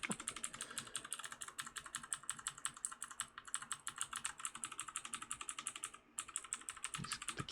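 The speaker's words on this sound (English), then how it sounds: "The keyboard clacks." Steady, rapid clacking of a computer keyboard, fairly faint, with keystrokes coming in an even, busy rhythm and one brief pause, heard alone without talk.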